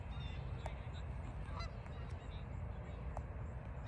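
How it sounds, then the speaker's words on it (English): Geese honk in scattered calls over a steady outdoor rumble in a Canadian neighbourhood, several short honks at varying distance. "These are birds, you know."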